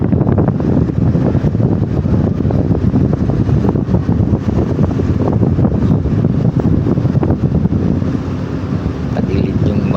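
Strong wind buffets a ferry at sea off the Philippines, a loud, constant roaring rush of wind noise with engine and wave rumble beneath, steady for the whole stretch.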